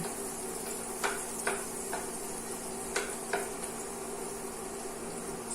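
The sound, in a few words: plant-based butter melting and sizzling in a skillet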